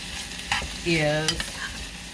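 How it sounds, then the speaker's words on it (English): Roast beef sautéing in a pan with a soft sizzle under close scraping and stirring strokes of a utensil, all brief and moderately quiet. "sauteing this all together, letting it get just a little bit brown, letting your roast beef get a little bit charred"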